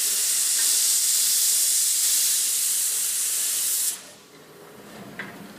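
One of Japan's oldest steam locomotives releases a loud, steady hiss of steam in Hitoyoshi, Kyushu, lasting about four seconds before cutting off, leaving quieter ambience and a faint clank.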